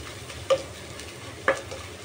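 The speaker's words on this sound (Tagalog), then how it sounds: "mainit na ang ating mantika. Unahin ko munang ilagay yung ating luya." Fresh ginger drops into hot cooking oil and gets stirred, a low steady sizzle broken by two short sharp utensil knocks about a second apart, close and fairly quiet.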